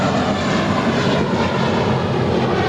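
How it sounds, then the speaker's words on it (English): A five-year-old JetBlue Airbus A321 departs LAX for Fort Lauderdale, its engines making a loud, steady broadband roar that holds without a break. "JetBlue Airways Flight 1800 departing to Fort Lauderdale, a 5-year-old Airbus A321."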